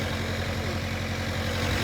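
A generator runs with a steady, low mechanical thrum and rhythmic pulsing, heard close and continuous over a short span without talking.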